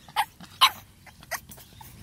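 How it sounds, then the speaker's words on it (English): Young French bulldog puppies give a few short, close yips and whimpers in quick, uneven bursts with quiet gaps between them. "Look at the puppies, baby."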